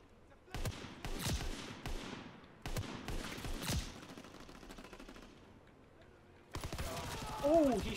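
Video game shooter gunfire in separated bursts, sharp cracks and short rattling volleys with quiet gaps between, moderately loud, with a voice briefly heard near the end.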